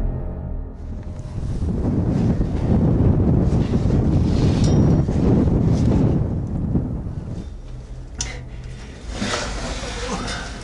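Strong wind gusting outside a Cold War ROC post bunker, a loud, steady broadband roar buffeting the microphone for most of the stretch, easing slightly toward the end, with no one talking.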